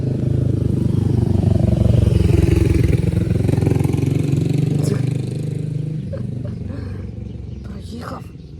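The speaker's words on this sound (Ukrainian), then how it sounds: "Все, десь їде мотоцикл ось." A motorcycle engine roars close by, then fades as it passes, with people talking over the noise.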